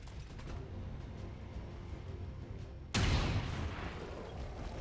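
A single loud gunshot blasts suddenly partway through, its boom ringing out over a low rumbling XCOM 2 game background with no talking.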